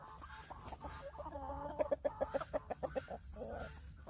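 A rooster and hens cluck on a farm in Texas on a foggy, chilly morning, giving a run of short, rhythmic clucks close by, about a dozen pulses in quick succession over low background noise.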